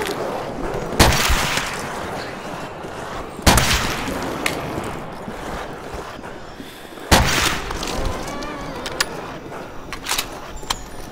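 Video game gunfire on the Nacht zombies map: three loud, sharp shots spaced a few seconds apart, each with a crack and a decaying tail, over a steady background din of game noise.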